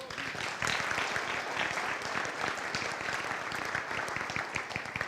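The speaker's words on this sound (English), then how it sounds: "One more round of applause." An audience at a military garrison update gives a round of applause, dense, steady clapping that swells quickly and continues throughout at a moderate, somewhat distant level.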